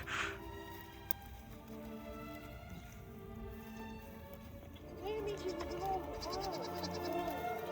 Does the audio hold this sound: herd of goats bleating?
yes